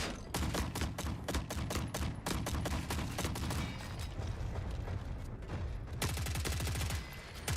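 Rapid pistol fire in the video game The Forever Winter, with dense volleys of sharp, loud shots in quick succession amid ongoing battle noise and booms, ending in a fast burst.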